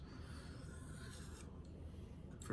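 A blade drawn across a strop to remove burrs, a quiet, soft rasping rub in close, continuous strokes, very faint overall.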